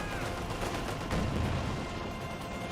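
MG42 machine gun in Company of Heroes 2 firing a rapid, continuous burst amid battlefield noise, loud and dense for a few seconds with no talking.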